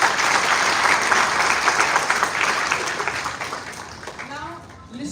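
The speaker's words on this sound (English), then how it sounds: "Can you clap yourselves?" An audience at the ITM Suspire 7.0 event claps for the organizers and themselves, loud sustained applause that thins and fades toward the end as a voice begins.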